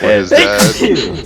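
A quick sneeze bursts out in the middle of ongoing conversation, with voices talking before and after it.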